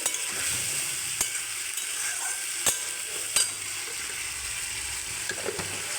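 Spice paste with a pinch of sugar sautés in a pan before boiled chopped banana flower goes in, giving a soft, steady sizzle broken by occasional sharp clicks of a spatula, with no talk.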